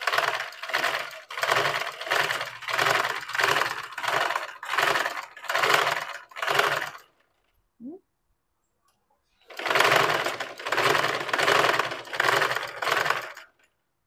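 A sewing machine stitching practice lines on cloth in a beginners' tailoring class in Chennai, running in fast pulsing bursts, pausing for a couple of seconds with a small click, then stitching again.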